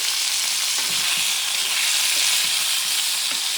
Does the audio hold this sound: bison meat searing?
yes